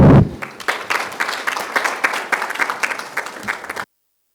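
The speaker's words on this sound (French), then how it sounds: "on peut s'applaudir encore une deuxième fois" An audience applauds at the end of a closing address at an evening event, a dense, steady wash of many clapping hands that holds for several seconds and then cuts off abruptly.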